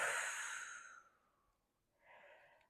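A slow, airy exhale during a seated shoulder stretch, starting fairly loud and easing off over about a second, followed by a quieter second breath near the end.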